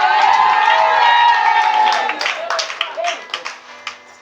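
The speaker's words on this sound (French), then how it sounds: "Ça, ce n'est pas les acclamations dignes d'une bonne réponse que Dieu vous donne." A church congregation cheers and applauds, a loud crowd roar and whooping that fades into scattered claps and shouts, with a voice audible in the mix.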